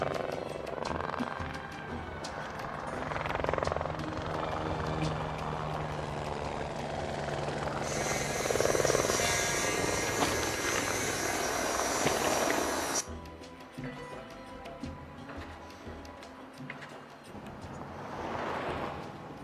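Helicopters in a film scene, filmed using models, whir with a continuous rotor drone layered with score and effects, swelling into a dense, loud wash midway before dropping back to a quieter rumble.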